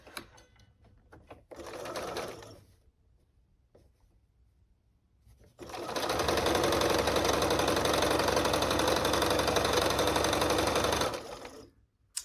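Sewing machine stitching quilt pieces for a snowball quilt block, a brief burst of stitching, a pause, then a long steady run of several seconds at constant loud speed before stopping.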